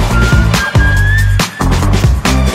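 Bright whistled melody from a pop song made for the film Top Gun: Maverick, rising over a loud, punchy beat with strong bass and drums throughout.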